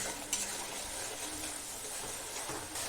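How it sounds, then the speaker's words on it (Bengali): Masala fries in oil and is stirred continuously in a pan, a soft steady sizzle with faint scraping and the occasional clink of a utensil, quiet and close. "মশলায় তেল ছাড়া পর্যন্ত আমি এইভাবে অনবরত নাড়তে থাকছি।"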